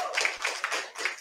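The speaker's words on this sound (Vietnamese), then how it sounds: "Xin quý vị cho chị Mary Nguyễn một tràng pháo tay" A short burst of applause from an audience welcoming Mary Nguyen at a Vietnamese-American gathering in Portland, Oregon: a few quick rounds of clapping, close and crisp.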